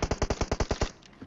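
Rapid automatic gunfire from an M4 rifle in a mobile battle-royale shooter, a burst of about ten evenly spaced loud close shots lasting under a second, then silence.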